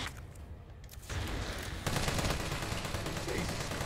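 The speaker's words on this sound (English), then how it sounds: "I guess I can start with the grenade and just see how that works." Explosive grenade blast and gunfire in the survival horror game Resident Evil 3, a sustained roar of booming detonation and rattling shots that swells partway through and stays loud to the end.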